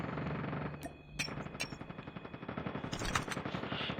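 Video game gunfire from Call of Duty: a sustained automatic burst of rapid shots with a few sharp louder cracks, fairly quiet overall and without speech.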